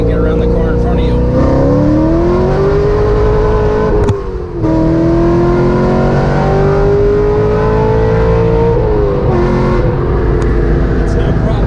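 A 7-liter V8 in a Chevrolet Corvette C6 Z06 pulls hard under acceleration, its loud engine note rising in pitch through the gears with a brief dip at a shift, heard close from inside the car.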